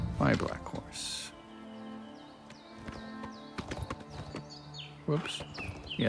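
A black horse in the game Oblivion Remastered pounds along in quick, rhythmic hoofbeats and lets out a whinny, while a person talks over the galloping.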